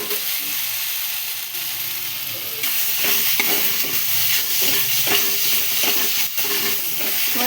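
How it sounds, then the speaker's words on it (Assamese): Chopped tomatoes fry in a pan with a loud, dense sizzle throughout. A utensil stirs them with a series of scraping strokes, close and steady. "এতিয়া বিলাহীখিনি অলপমান ভাজি লওঁ"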